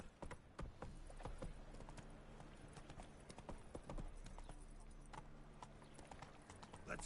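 Roach, a horse in a PS4 video game, gallops in a steady rapid clip-clop of hooves under a continuous game soundscape, the beats close and evenly loud throughout.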